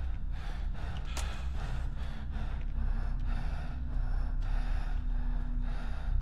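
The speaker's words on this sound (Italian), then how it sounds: "cos'è questo respiro fastidioso, pesantissimo?" Heavy, laboured breathing in a horror game, loud and close, with rhythmic gasping inhales and snorting exhales repeating steadily throughout.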